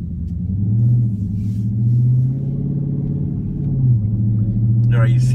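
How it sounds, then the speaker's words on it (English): The engine of a Dodge Charger Scat Pack drones with a steady low rumble as the car drives and accelerates gently, rising slightly in pitch a few times, with people talking inside the cabin. "I'm barely pressing the gas, and it's going so fast."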